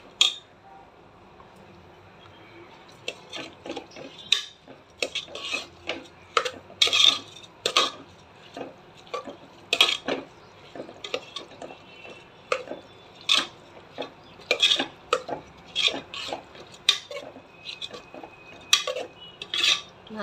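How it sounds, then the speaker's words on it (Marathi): Rice and dal being sautéed in a pot for khichdi, a spoon clinking and scraping against the metal in repeated sharp taps, fairly close and moderately loud, with no talking. "चांगलं परतून घेणार आहे."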